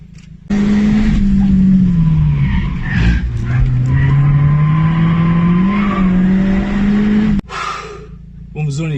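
A race car laps a circuit at speed, its engine droning loud and steady with rising and falling pitch, tyres squealing briefly through corners, before cutting off near the end.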